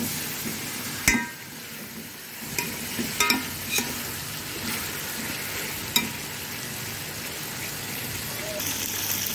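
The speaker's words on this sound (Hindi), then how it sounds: "बस फ्राई करो बिस्मिल्लाह पड़ के ज़रा थोड़ा भुन जाए ना" Chicken fries in a pot for pulao with a steady, close sizzle. Stirring scrapes and a few metallic clinks run through it.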